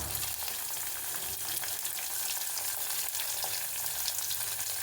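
Curry leaves crackle and sizzle in hot oil while tempering a gongura (sorrel leaf) chutney, a steady, close, dense frying hiss that runs unbroken throughout with no talk.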